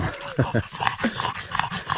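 Dogs cooling off under a wet towel after running on a mushroom-hunting walk along the Dniester slopes, close by, with quick panting breaths, small whimpers and shuffling movement in bursts.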